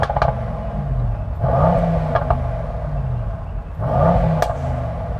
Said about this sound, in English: So I'm going to rev up the Merc first.